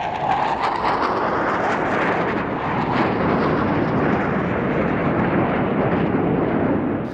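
At an airshow, a Luftwaffe Airbus A310 MRTT tanker flies with a pair of EF2000 jets in a simulated refuelling pass, a broad, loud continuous jet roar rumbling steadily throughout with no voices.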